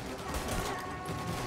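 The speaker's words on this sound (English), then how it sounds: "I'm just gonna spam shooting." Dense, sustained gunfire from Mafia: Definitive Edition, with shots spammed in a rapid, unbroken stream that stays loud and steady throughout.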